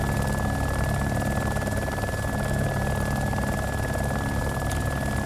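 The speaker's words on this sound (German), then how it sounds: "ich mich jetzt in den Helikopter für 2 Minuten setze" Continuous rotor drone and engine whine of a helicopter in the video game DayZ, steady and loud throughout with a thin high tone on top, no talk.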